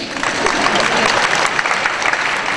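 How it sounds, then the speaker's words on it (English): Audience at a school vocal concert claps steadily and loudly throughout, a dense even wash of many hands without pauses. "we'll just clap for them anyway"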